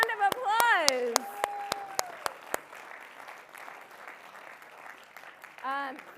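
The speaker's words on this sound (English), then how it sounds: "Big round of applause." At a charity gala, scattered sharp hand claps ring out amid excited voices after a prize drawing, followed by a low murmur of sustained applause with a person talking over it.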